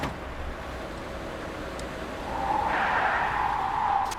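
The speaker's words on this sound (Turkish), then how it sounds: "Çünkü tırın içindeyken kayma sesi veriyordu." Truck tires skid and squeal over a steady engine drone in Euro Truck Simulator 2, the screech swelling in the second half and holding until the end.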